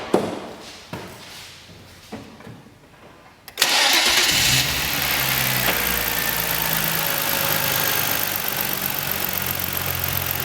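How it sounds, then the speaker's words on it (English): A car engine cranks briefly, catches with a sudden roar, then settles into a steady, loud idle hum close by. "start up your car,"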